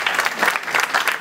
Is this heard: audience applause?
yes